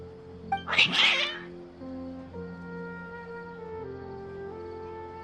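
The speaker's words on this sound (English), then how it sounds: "Strange. Your cats seem pretty worked up." A cat's strained yowl and meow from the video game Genshin Impact rises in one short burst near the start, then gives way to steady sustained game music tones.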